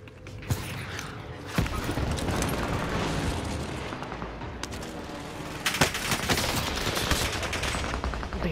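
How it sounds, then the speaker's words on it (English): Enemy team gunfire in Call of Duty: Modern Warfare, several sharp shots and bursts cracking over a dense, continuous backdrop of in-game combat noise, loud and close, with no talking. "Being shot by another team."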